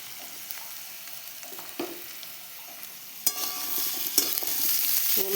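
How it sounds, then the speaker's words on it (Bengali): Spatula stirring papaya and potato curry with turmeric and salt in a frying pan, quiet scraping at first, then louder sizzling and clattering strokes that build and continue to the end. "নুন হলুদটা দিয়ে ভালো করে মিক্স করে নেব।"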